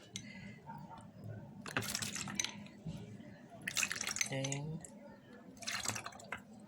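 Rice water for a homemade leave-in hair conditioner is poured and dripped into a container in short splashing bursts, close and fairly quiet, while a person talks.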